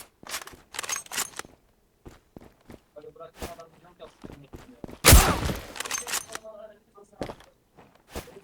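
Gunfire in the Zula online shooter on the Favela map, a loud burst near the middle amid scattered game clicks and footsteps, with agitated voices talking over it.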